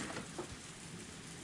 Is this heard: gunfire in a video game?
no